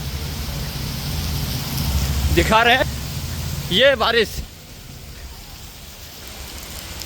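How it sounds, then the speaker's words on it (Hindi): Heavy rain pours near a flyover, making a steady, dense hiss that fills the background while someone talks briefly over it. "बारिश तकड़ी हो रही है भाई।"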